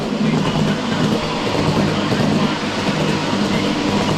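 A miniature train rumbles and clatters steadily overhead, heard from a tunnel beneath a miniature railway yard, a continuous rolling roar with faint clickety-clack, loud and close.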